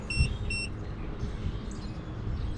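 An Aferiy Nomad 1800 portable power station, drained to 0%, gives two short low-battery beeps in quick succession, followed by a faint hum of background noise.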